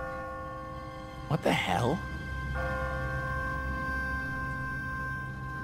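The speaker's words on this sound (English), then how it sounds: "What kind of church bell goes off at 20 past the hour?" An automatic church bell rings in The Walking Dead video game, its sustained tones hanging in the background while a man briefly exclaims, then the ringing continues steadily alone.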